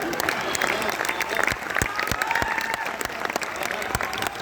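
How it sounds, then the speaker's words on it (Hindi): Dense, steady applause from an audience at a Holi poetry recital (kavi sammelan) carries through the clip, with sharper individual claps popping out and a voice briefly audible over the crowd. "ये भी तालियां कम थी।"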